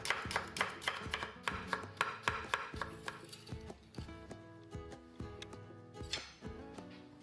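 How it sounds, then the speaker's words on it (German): Rapid, steady knife strokes dice half an onion on a cutting board, each chop a crisp close tap in an even rhythm with no talking over it. "Dafür schneide ich eine halbe Zwiebel in feine Würfel."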